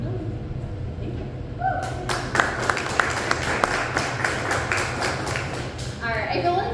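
Audience applause at a wine company talk in Wyoming, a burst of many hands clapping that starts sharply and carries on steadily, close and fairly loud, with a voice speaking just before.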